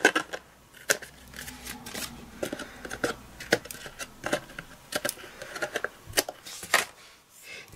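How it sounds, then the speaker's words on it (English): Scissors snipping excess craft paper in a quiet room, a series of irregular sharp cuts and rustles, close and fairly soft, with no talking. "Just grab your scissors and snip off the bits that are sticking out."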